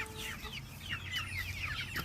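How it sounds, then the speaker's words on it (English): Backyard chickens cluck repeatedly in short, bright bursts over a faint low background hum. The birds are fairly quiet and a little distant, and no one speaks. "We are raising chickens"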